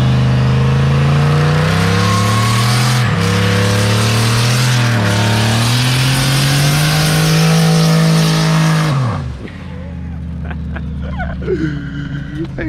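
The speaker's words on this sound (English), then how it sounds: "I just wanna do a burnout first" A 600-horsepower turbocharged GMC Yukon XL does a burnout, its engine roaring loud and close at high revs for about nine seconds with tire noise, then cutting off abruptly to a quieter idle and faint squeals.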